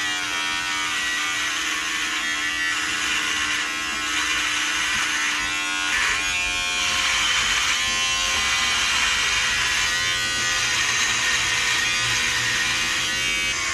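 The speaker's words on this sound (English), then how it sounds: "Tex, should we shave your beard?" Electric shaver buzzing steadily as it trims a man's beard, close and continuous for the whole stretch, with slight changes in tone as it moves over the face and no talking.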